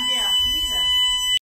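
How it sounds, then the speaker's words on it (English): A loud, piercing alarm with steady high tones sounds in a house, close and continuous, while people talk over it, before it cuts off abruptly. "Why did the alarm go off?"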